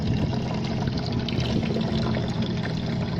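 Steady water flow from a boat's watermaker on a cruising catamaran, a continuous close pouring and trickling rush holding constant level throughout with no voices.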